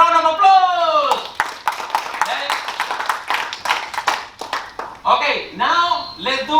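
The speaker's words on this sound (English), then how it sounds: "I want all of you to give yourself a big round of applause" An audience at a London business growth event claps in scattered sharp bursts, individual hand claps standing out while a loud voice talks and whoops over them.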